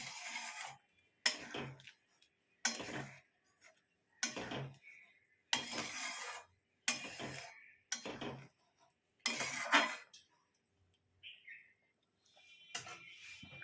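A spatula stirs soyabean kosha in a pan, making about nine short, sharp scraping clinks spaced by quiet gaps. The sound is faint overall.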